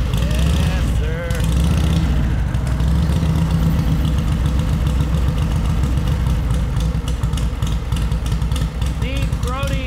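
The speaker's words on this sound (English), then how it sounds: "Now this is not your stock sounding 61-inch knucklehead. It makes absolutely great noise." Harley-Davidson 61-inch Knucklehead motorcycle with a short straight pipe idles loudly and steadily up close, a deep lumpy throb with audible valvetrain clatter, while a person talks over it.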